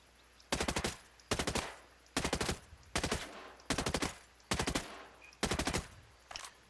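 CZ 805 Bren assault rifle from Ghost Recon Breakpoint fires in eight short, evenly spaced full-auto bursts, each a loud rapid crackle of shots separated by brief quiet pauses.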